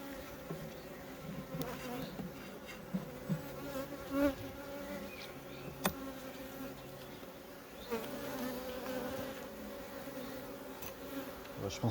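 Honeybees buzzing at a beehive, a dense steady drone of many bees close by with occasional louder passes near the microphone, continuous and without talk.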